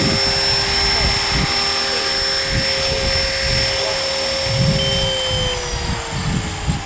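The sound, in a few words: Blade 330S RC helicopter flying in to land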